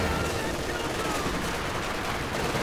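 Dense, continuous machine-gun and rifle fire from a Company of Heroes 2 battle, with troops firing from a church, rattling steadily at close range and fairly loud without pause.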